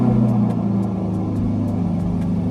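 An LBZ diesel engine in a Ford F350 truck runs with a low, steady idle rumble, close and continuous, with faint regular ticking over the top and no voices.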